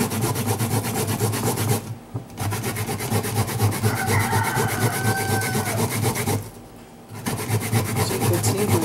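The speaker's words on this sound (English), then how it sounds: "I'm going to use this side to grate the cassava." Raw cassava is rubbed hard against a hand grater in quick, continuous rasping strokes, close and loud, pausing twice briefly before the scraping resumes.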